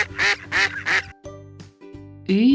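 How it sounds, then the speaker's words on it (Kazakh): A duck quacks three times in quick succession, loud and close. Quieter tonal sounds and a brief voiced note follow. "Үйрек."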